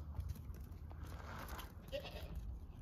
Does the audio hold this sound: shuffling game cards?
no